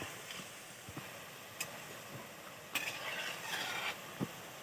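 Semolina gulab jamun sweets fry in oil in a pan with a soft, steady sizzle, broken by scattered light pops and a few faint clinks of a utensil against the pan.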